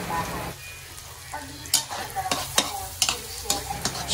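Garlic sizzles in melted butter in a home-kitchen pan while a utensil stirs it, giving a steady close fry hiss broken by repeated scraping strokes against the pan.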